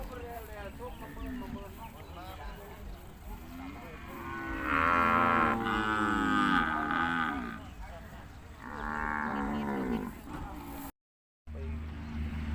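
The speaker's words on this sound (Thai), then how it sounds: "ส่วนมากจะเป็นวัว วัวตัวผู้ครับ เป็นวัวเนื้อ" Beef cattle, mostly bulls, at a Thai cattle and buffalo market moo loudly several times in a long drawn-out run. Crowd chatter and voices continue underneath, and the market ambience carries through.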